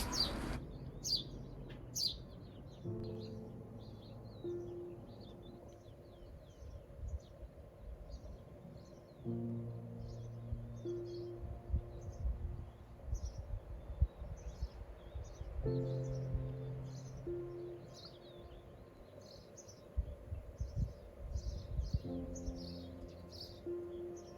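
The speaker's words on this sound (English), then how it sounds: "we woke up to this calm sound of birds chirping everywhere" Birds chirp and tweet all around in the early morning, with scattered high calls from several directions over a quiet, low background hum.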